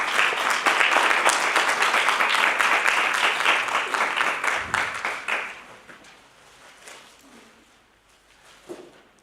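Applause from a school audience at a district road safety debate competition, dense clapping loud at first, then fading into scattered claps and faint room noise.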